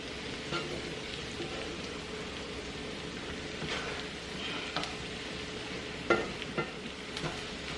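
Southern fried corn cooks in butter with black pepper, giving a steady low sizzle and crackle with occasional stirring scrapes, close and even throughout with a slightly sharper clatter near the end.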